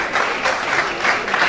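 Applause from a gala audience at an African painting awards evening, a steady crackle of clapping hands in a large room, with slight swells in intensity throughout.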